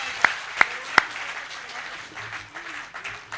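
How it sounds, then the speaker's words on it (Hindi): At a Delhi Hindi comic poetry gathering, three sharp, loud claps ring out close by, followed by softer scattered applause from the audience with a voice murmuring underneath. "हाथ खड़े करके एक बार तालियां बजाए सारा सदन।"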